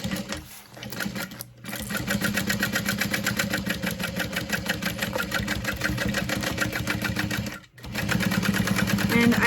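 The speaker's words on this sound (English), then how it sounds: "And then we're going to sew at a 1/2 inch seam allowance." A sewing machine runs a steady fast stitch along a half-inch seam on a Felicity tote bag, pausing briefly twice before resuming, with its motor hum close and continuous.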